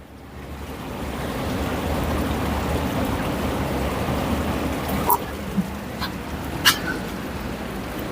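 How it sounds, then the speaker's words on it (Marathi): Filtered water from a treatment plant pours steadily into a Bisleri bottle, a continuous close rushing wash that holds evenly throughout, broken near the end by a few brief clicks and knocks. "आता एक सॅम्पल साठी आपण बिस्लरी बॉटल मध्ये पाणी घेऊ आणि बघू किती शुद्ध झालंय ते"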